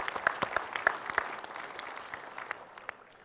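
Audience clapping at a Broward County convention and visitors bureau address, a moderate burst of scattered hand claps that thins out and fades over a few seconds.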